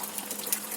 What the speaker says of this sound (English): I throw mix into the pan.